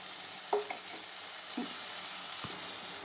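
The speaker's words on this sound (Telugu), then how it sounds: "దీంట్లోకి టమాటో వేసుకుందాము టమాటో చిల్లీస్" Tomatoes and green chillies frying with ridge gourd curry in a pan, a soft steady sizzle with a few faint stirring taps.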